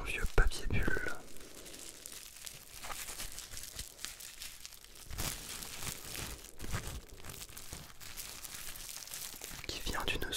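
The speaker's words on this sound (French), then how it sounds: "Et quoi de mieux pour commencer que ce bon vieux papier bulle" Bubble wrap crinkled close up in a whispered ASMR session, soft crackling and rustling textures continuing alongside quiet whispering.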